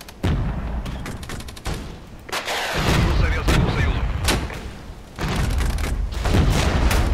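A danger-close artillery strike lands in the Regiments war game, with a modern Soviet army attacking. Repeated loud booms and cracks come in heavy bursts, with short gaps of quieter rumble between them.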